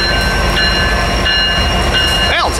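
A Union Pacific freight train locomotive passes close by while railfanning at Tehachapi, a loud continuous rumble of wheels and engine with a high steady whine and a brief squeal near the end.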